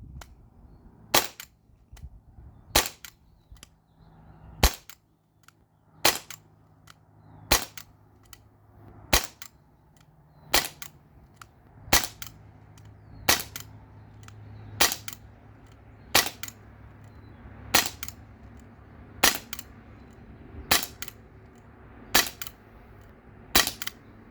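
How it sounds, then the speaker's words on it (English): A Glock 19X Gen 5 BB pistol fires about eighteen sharp, snappy shots at a steady, unhurried pace on a range target, each crack close and loud over a quiet background. "So I'm also still just single-handed firing on a new target."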